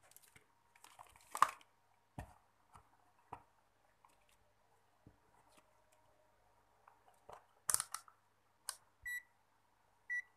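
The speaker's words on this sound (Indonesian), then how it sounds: "Kita gunakan buzzer ya" A multimeter's continuity buzzer beeps in a few short tones near the end while probes tap and click against transformer windings, with scattered handling noises and no speech.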